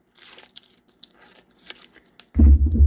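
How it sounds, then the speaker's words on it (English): Tape peeled off a repaired Bowflex SelectTech 552 weight plate after the epoxy has cured, a series of soft crinkly tearing sounds ending in a louder, heavier rustle. "Pull off your tape"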